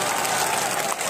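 A crowd at a BJP election rally in Madhya Pradesh claps in broad, steady applause that fills the whole moment, loud and close, with no clear voice over it.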